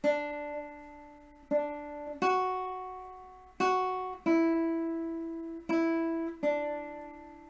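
A slow, simple guitar melody from Fernando Sor's Etude in B Minor, single plucked notes each ringing and decaying before the next, played alone at a gentle volume.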